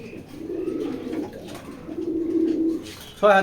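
Blue racer pigeons coo softly in a low, rolling murmur through most of the stretch, with a sharper, louder burst of bird noise close by at the end.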